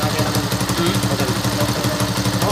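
A rebuilt motorcycle engine, restored from a stripped condition and running on an improvised fuel tank, idles steadily with an even, rapid low thrum and light mechanical clatter, loud and close, with no talking over it.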